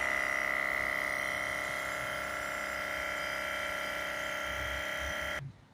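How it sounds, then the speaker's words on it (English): A Milwaukee air compressor, hooked up for cleaning the DPF of a Ford Transit Custom 2.2, runs with a loud steady electric buzzing whine close by for over five seconds before abruptly shutting off. "this is connected up to the Milwaukee compressor, which should start kicking in once the pressure drops a little bit"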